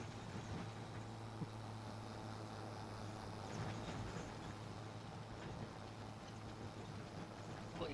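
A tractor engine straining up a hill in Farming Simulator 25, a steady, droning hum with a constant low tone and faint mechanical rattle, heard alone and unchanging throughout.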